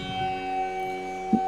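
A Hindu temple bell rings during Shiva aarti, its clear metallic tone sustaining and humming, with a fresh strike near the end.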